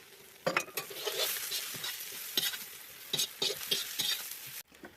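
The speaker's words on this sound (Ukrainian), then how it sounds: "Також її легенько смажуємо." Carrots sizzle steadily in a hot pan over an open fire for bograch, with repeated scraping and stirring strokes and soft clinks, then the sizzle drops off abruptly near the end.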